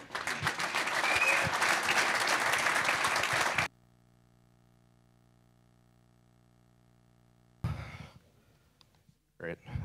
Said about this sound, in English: So please give a huge round of applause to Christien and Rioux.